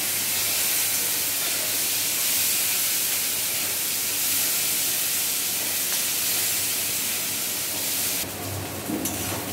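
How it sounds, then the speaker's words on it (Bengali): Chopped onion hits hot oil tempered with whole cumin and sizzles loudly and steadily, with a dense hiss that goes on without a break and shifts slightly near the end as the pan is stirred. "এবার ফোড়নটা দেওয়ার পর কেটে রাখা পেঁয়াজটা তেলের মধ্যে দিয়ে দেওয়া হলো।"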